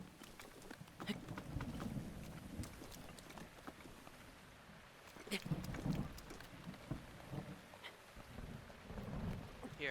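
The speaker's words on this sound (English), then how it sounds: "Hey, here's the lightning storm." Stormy weather in The Legend of Zelda: Breath of the Wild, with steady rain hiss and low rumbling thunder swells that peak mid-clip, continuous and fairly close, with no talk.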